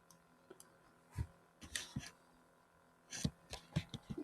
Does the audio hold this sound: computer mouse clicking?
yes